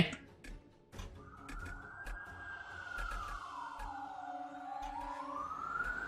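A video game police siren wails, rising and falling steadily over a rumbling background, moderately loud and continuous, with scattered clicks and thumps around it.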